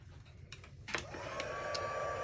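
A heat tool starts up and runs as a steady whooshing fan hum while melting gold embossing powder on a papercraft card. A few small clicks and taps come just before it kicks in, with no talk.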